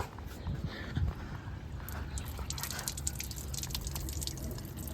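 Water from a garden hose running over a Suzuki Cappuccino to find a leak, with steady close spattering and dripping that carries on through the whole stretch and holds an even level.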